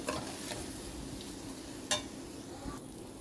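Gobindobhog rice and mung dal being stirred with spices in a pan for khichuri, a soft steady sizzle under a few spoon scrapes and one sharper clink, close and fairly quiet.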